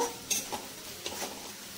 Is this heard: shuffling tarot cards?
no